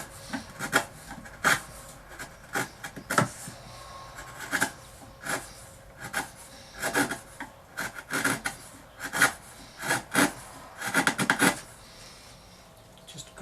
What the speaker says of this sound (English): you're going across the end grain, so it's much more difficult to get your chisel around that